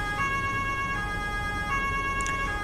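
A police vehicle siren in Landwirtschafts-Simulator 19, a steady wailing tone with slow rising and falling sweeps, loud and continuous over engine noise, with no talking.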